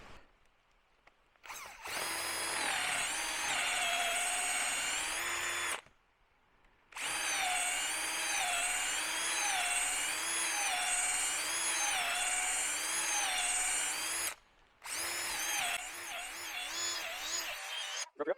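Power drill fitted with a long drill bit whining at high speed in three sustained runs, the longest in the middle, separated by brief pauses, close and loud with no talk.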